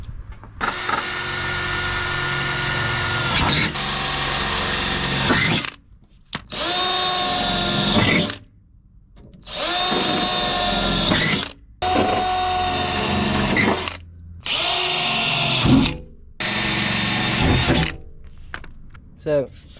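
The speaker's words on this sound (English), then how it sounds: "I'm going to grab a drill and drill out the bottom of the sill." A power drill bores holes in the bottom of a VW Corrado VR6 sill, running in six or seven loud, sustained whining bursts separated by short silences, close to the listener.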